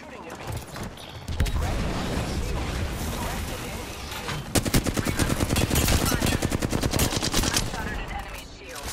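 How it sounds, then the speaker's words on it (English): Enemy gunfire in Apex Legends Season 13 rattles in rapid automatic bursts, sparse at first and then a dense, steady stream of shots, fairly loud, with voices heard intermittently. "The enemies are shooting at me."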